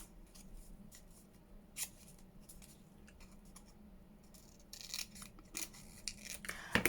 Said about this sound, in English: So I'm going to cut that other one off.